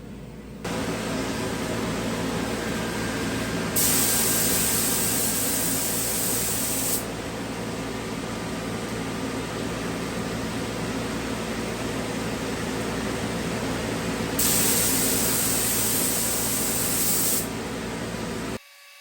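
Steady hiss of a spray gun applying metal flake paint, with two stronger, brighter bursts of spraying, close up and continuous for the whole stretch.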